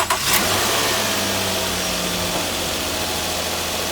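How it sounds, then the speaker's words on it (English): A 2009-2014 Nissan Murano being checked for a coolant leak cranks briefly and catches, then settles into a steady, loud idle close by, with no talking. "Now I'm gonna start the car to check for the leak."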